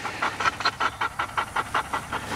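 A high-drive retriever panting close to the microphone, quick, even rhythmic huffs repeating about five times a second, steady and with no talking.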